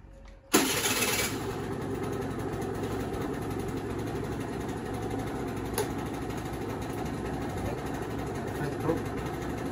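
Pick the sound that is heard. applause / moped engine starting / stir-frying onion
moped engine starting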